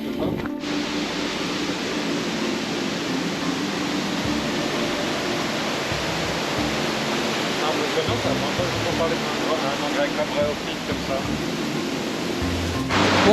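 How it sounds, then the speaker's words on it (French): Waterfall in a Madagascar forest, a loud continuous broadband roar of falling water right nearby, steady throughout with a voice speaking faintly beneath it. "on est dans une cascade"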